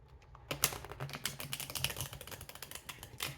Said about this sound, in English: This is Awakened Tarot deck, I believe. Shuffles like a dream.